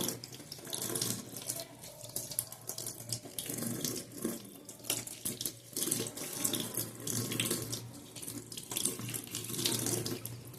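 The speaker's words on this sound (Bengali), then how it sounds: "ভালো করে ধুতে হবে, খুব ধুলো হয় নিম পাতা।" Tap water running over neem leaves being washed in a kitchen sink, a steady close splashing stream with fluctuating rushes and spatters throughout, no talking.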